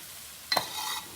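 A quick stir of warm tomatoes in a pan: a short scraping clatter, then a faint, steady sizzle that fades within a second.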